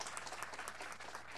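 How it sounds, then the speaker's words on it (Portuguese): Audience applause for a speaker at an event, a dense steady patter of many hands clapping throughout at moderate volume, with no one speaking over it. "eu peço uma salva de palmas para o palestrante"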